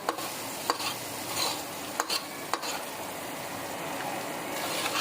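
Spices roasting in oil in a pan on medium heat for egg chana dal fry, a steady close sizzle with a few sharp scraping taps of a stirring spoon, no talking.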